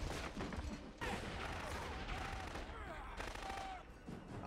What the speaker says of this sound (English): I'm hearing gunshots, but I ain't seeing no gunfire